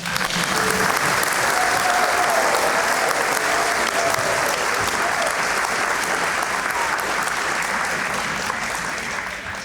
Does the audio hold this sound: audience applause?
yes